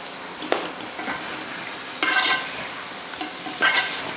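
Fried chicken sautés in a salted tomato masala gravy: a soft background sizzle broken by several close scraping stirs of the spoon, with no voices.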